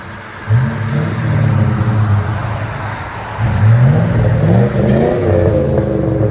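A 2005 GMC Sierra 5.3L V8 pickup with a Flowmaster Super 50 Series exhaust idles with a deep rumble, then revs up twice with throaty, rising growls.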